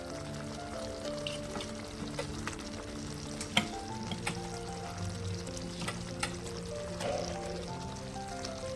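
Boiled eggs going into a simmering tomato egg curry, village style, bring a steady soft sizzle and bubbling with scattered stirring knocks and a few sharper clinks, continuous and fairly close with no talk.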